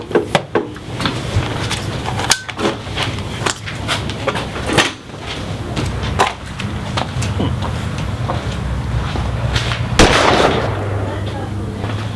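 Rapid bursts of gunfire crackle repeatedly across a chaotic, dense action scene, with sharp loud reports scattered among rumbling background noise and movement sounds.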